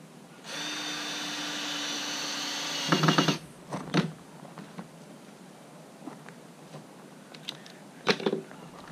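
Power drill driving a screw to anchor a clamp, a short loud whine of about two and a half seconds ending in a clatter, followed by scattered knocks and handling sounds.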